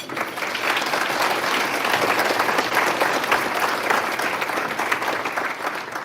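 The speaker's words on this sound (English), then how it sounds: "Could we please give them a warm applause?" Audience applause at a 2026 State of the City event, a sustained, loud, even wash of clapping from a large crowd that fills the whole stretch without letup.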